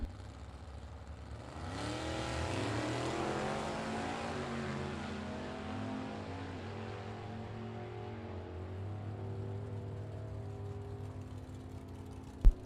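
A vintage 1940 Willys Coupe gasser at a drag strip runs as a loud engine roar that swells quickly and then holds a long, steady drone, heard from a distance and fading slightly, with no one talking.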